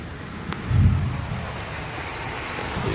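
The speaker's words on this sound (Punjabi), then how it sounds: "ਪਾਣੀ ਕਿਵੇਂ ਚੱਲ ਰਿਹਾ ਸ਼ੀਸ਼ਿਆਂ ਦੇ ਉੱਪਰ" Water streams over a vehicle's windshield glass while the wipers run, giving a steady broadband rush with a dull low thump near the start and no voices.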